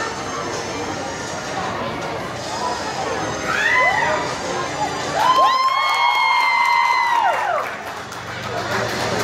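A carnival circus sideshow crowd whoops and cheers loudly, with shrill rising yells and excited shouts swelling together before fading.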